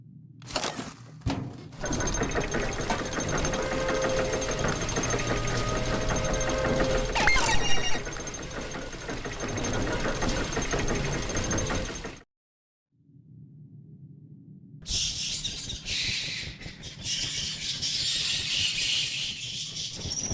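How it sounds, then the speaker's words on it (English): A machine engine in the Book of Unwritten Tales 2 adventure game is cranked up, a loud mechanical clatter and rattle with ringing metallic tones that runs several seconds, cuts off, then gives way to quieter whirring sounds. "you'd better oil the engine before you switch the machine back on again"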